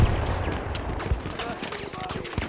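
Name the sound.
aircraft cannon fire in a WWII boat video game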